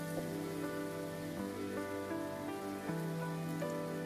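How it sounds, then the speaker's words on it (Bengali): Taro corms fry in hot oil with whole spices, giving a steady, dense sizzle and crackle that runs unbroken and fairly loud throughout. "ভালোভাবে ভেজে দিব যেন ফোড়নটা ভালোভাবে কচুর গাঁটির গায়ে লেগে যায়।"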